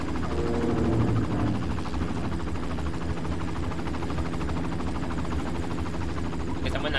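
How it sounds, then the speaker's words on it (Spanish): Helicopter in the Far Cry video game, a continuous low rotor and engine drone hovering at a steady moderate level, with game ambience underneath and no clear talk. "ya con eso llamamos la atención del helicóptero"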